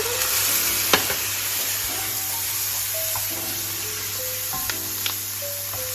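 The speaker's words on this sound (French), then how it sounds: "une fois que nos oignons sont translucides, on va mettre notre vinaigre" Onions frying in a pan with vinegar splashed in, a steady close sizzle with a few sharp spoon clinks and stirring scrapes, no talk; part of cooking Liège-style meatballs.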